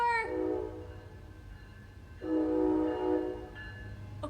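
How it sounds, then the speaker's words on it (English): Train horn sounds near a train station: a loud harmonic blast, a pause, then a second strong sustained blast and a brief third tone, over a steady low rumble of the passing train. "I'll talk about this when the train goes by."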